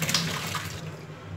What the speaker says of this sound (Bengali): ঢেলে দিচ্ছি একটা স্ট্রেনারের মধ্যে ছানাটা